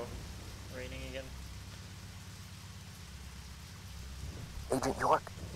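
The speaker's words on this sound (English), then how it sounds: "Uh-oh. Raining again." Rain falls in the video game Deadly Premonition as a soft, steady hiss of patter throughout, with a brief tonal sound early on and a short burst of voice near the end.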